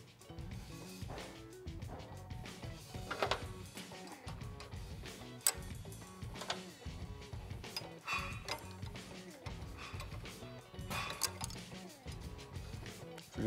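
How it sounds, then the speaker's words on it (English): Jam nuts on the heim-joint adjuster of a Sputhe chassis stabilizer on a Harley Dyna motorcycle are tightened with a wrench: close, irregular metallic clicks, ratcheting ticks and knocks with no talking. "I've gotta tighten up our jam nuts"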